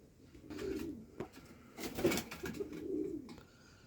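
Young pouter pigeons coo in a loft, low rolling coos repeating in a few bursts at close range, fairly soft, with no one talking over them.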